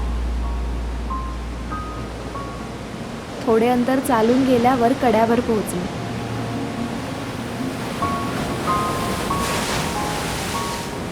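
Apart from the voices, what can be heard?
sea waves roaring against a cliff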